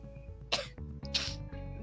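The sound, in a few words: sneeze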